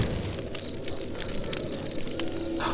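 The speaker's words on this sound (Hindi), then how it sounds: "मोहित ने अंगीठी में लकड़ियां डाली और आग जलाई।" A wood fire burns in an angithi brazier, giving a steady rushing roar with scattered crackles and pops throughout.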